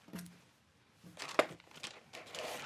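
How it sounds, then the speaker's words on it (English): Old, sticky tape peels away from the plastic casing of a first-generation iPod Shuffle, giving a few close, crackling rips and crinkly tearing bursts after a brief quiet start. "The tape has been separated from the plastic."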